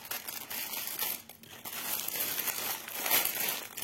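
A cross-stitch kit package is opened, its plastic wrapping crinkling and crackling up close in a continuous rustle with a brief lull partway through.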